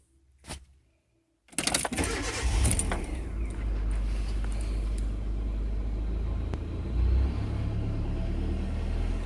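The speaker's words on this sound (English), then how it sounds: "we're in the car here and we're going to start it up." A car engine cranks and catches after a short burst of noise and a pause of near silence, then settles into a steady low idle rumble. The idle rises briefly near the end.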